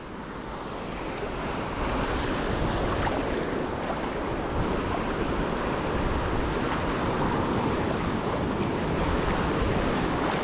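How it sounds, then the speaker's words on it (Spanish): Calm morning ocean waves roll in a continuous, loud wash at Playa del Carmen beach, with wind buffeting the microphone throughout. "a esta hora, de momento, las olas son tranquilas"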